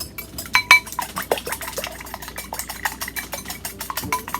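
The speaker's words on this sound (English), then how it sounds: "And then we're just going to whisk them." A whisk beats two cracked eggs in a bowl, a fast, steady run of close metallic clicks and taps against the bowl's side, with a few louder knocks early on.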